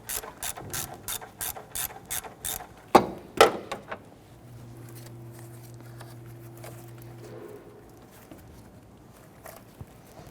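Ratchet loosening the serpentine belt tensioner on a 1992–1996 Toyota Camry 2.2L four-cylinder, a run of quick sharp clicks followed by a couple of louder strokes, then a faint hum; close and alone.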